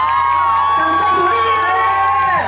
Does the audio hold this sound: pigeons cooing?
no